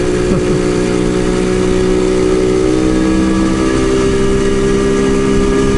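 An H2 motorcycle engine running steadily at idle, a loud continuous drone with strong low harmonic tones, close by and with no speech over it.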